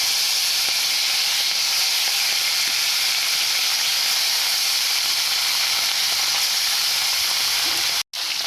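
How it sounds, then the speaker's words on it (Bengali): Live lata fish hitting hot oil in a wok send up a loud, steady hiss and sizzle that holds evenly throughout, with a brief dropout near the end. "কড়াই গরম হয়ে গেছে তেল দিচ্ছি মাছ ভাজবো তাই দিচ্ছি মাছগুলো"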